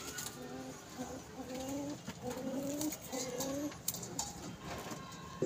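An old pigeon kept in a home loft coos in soft repeated low phrases, close by, steady across the clip with faint background rustle.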